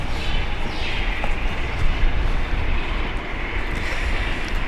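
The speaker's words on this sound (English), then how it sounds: "Jaffa Jet, Jetstar, getting ready for takeoff." Jetstar jet airliner preparing for takeoff at Brisbane Airport, a steady broadband engine rumble with wind noise, moderately loud and continuous throughout, no voices.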